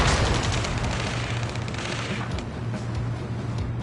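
Dense, continuous gunfire and explosions in the combat video game Ace Combat, a loud, unbroken roar of rapid shots and booms with no speech.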